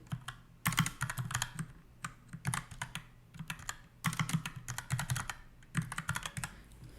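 Rapid typing on a computer keyboard, with dense bursts of clattering keystrokes broken by short pauses, close and fairly loud, no voices.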